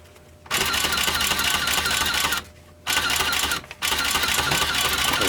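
A Monroe 7130/7140/7150 mechanical calculator under repair clatters loudly and rapidly as its paper tape feeds, in three long mechanical bursts separated by short pauses.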